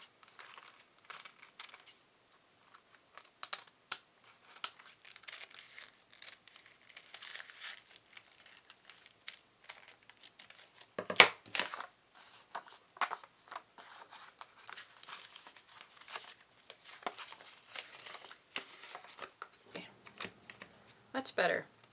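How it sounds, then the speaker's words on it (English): Scissors trim the paper edges of a Dollar Tree gift box, giving a run of quick, crisp snipping and crinkling paper sounds close up, with brief rustles and soft handling noises throughout. "Just gonna trim off these edges here."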